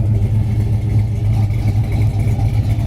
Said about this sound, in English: Dual exhaust looks great, sounds great.